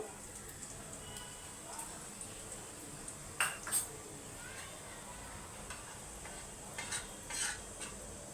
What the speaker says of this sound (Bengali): প্রথমে একটু জিরে গোটা জিরে দিচ্ছি হাফ চা চামচ মতো